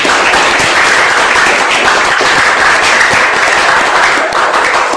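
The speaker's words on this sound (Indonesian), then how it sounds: "Tepuk tangan dulu untuk kalian." A classroom of students applauds themselves at a teacher's cue, dense steady clapping filling the room at close range throughout, with no pause and no talk over it.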